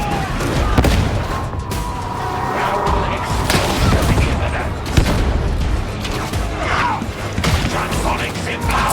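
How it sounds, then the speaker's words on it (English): A grenade explodes in Darktide amid a chaotic firefight, with sharp blasts and crashing impacts layered over constant gunfire and shouting voices. "Grenade down!"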